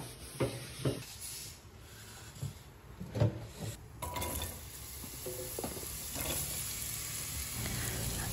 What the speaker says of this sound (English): Now I'm just gonna fry these mushrooms.